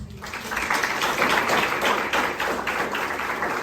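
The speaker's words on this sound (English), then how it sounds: "So give yourself a round of applause." Applause from a room of attendees at a business masterclass, an even roll of many people clapping that starts quickly and holds for several seconds before easing off slightly.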